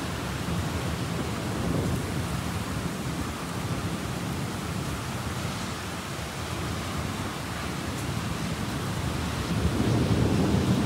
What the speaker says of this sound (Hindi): हवा का तूफान देखो, आवाज़ सुनो, साउंड सुनो, खतरनाक वाला साउंड है बहुत ही ज़्यादा